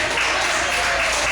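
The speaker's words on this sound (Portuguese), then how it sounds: "vamos aplaudir a palavra de Deus em nome de Jesus" Church congregation at an evangelistic service applauding, a dense, steady wash of clapping without a break.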